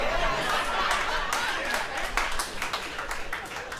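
A crowd reacts with scattered applause and clapping mixed with chuckles and murmured chatter, a steady dense wash of hands and voices with sharper claps standing out toward the end.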